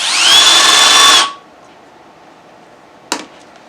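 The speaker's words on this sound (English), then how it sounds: "Place the tip of the bit in the hole and turn the drill slowly. Press it and turn it faster for a few seconds." Power drill spinning a countersink bit to deburr a hole in metal, a loud whirring burst lasting about a second before cutting off, then quiet with one short metallic clink near the end.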